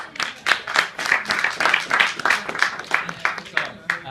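Applause rises in rhythmic waves, with distinct, evenly paced claps and crowd noise close by, and a voice talks faintly beneath them.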